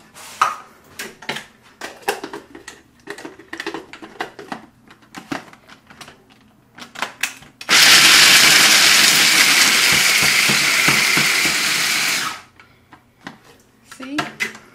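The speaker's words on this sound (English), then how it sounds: "Life is much easier when you have the food processor." A kitchen food processor chops nuts for Passover charoset in a loud, steady whirring burst of about four and a half seconds, preceded and followed by scattered clatter of dishes and utensils.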